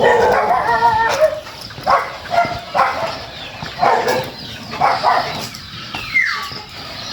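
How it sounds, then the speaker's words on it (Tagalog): Several dogs bark and yip repeatedly, a steady run of loud barks with some whimpering, moderately close against outdoor background noise. "Daming aso."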